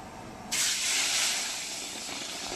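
Small-cut pieces of paste hit a hot pan for chilli fish, bursting into a sudden loud hissing sizzle that settles into a steady fry.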